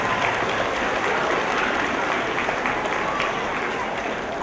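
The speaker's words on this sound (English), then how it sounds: "have a round of applause" An audience at a school all-town strings concert gives sustained applause, a steady, even roar of many hands clapping that stays at constant loudness throughout.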